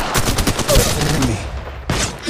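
Rapid gunfire in the mobile shooter Apex Legends Mobile: dense, loud bursts of automatic shots crackle close up, break off briefly, then resume with another sharp volley.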